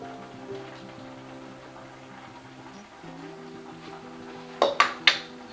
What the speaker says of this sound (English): we're gonna transfer this into a bowl here